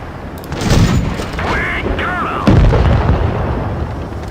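Tank cannon fire in the mobile game World of Tanks Blitz, heavy booming shots with whistling shell sounds between them, loud and up close while someone talks over the action.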